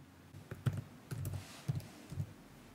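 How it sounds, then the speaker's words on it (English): Quiet typing on a computer keyboard, a handful of soft key clicks arriving in four small bursts spaced evenly apart, close and isolated against a faint room hiss. "And let's type in a name."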